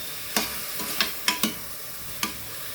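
Potatoes and peas fry in a pan for methi pulao: a low steady sizzle broken by about five sharp, close scrapes of a spoon stirring, with no speech.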